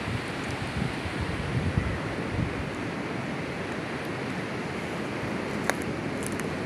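Steady surf washing onto Kalbadevi beach, a continuous broadband roar of waves with wind buffeting the microphone, no voices, holding an even level throughout.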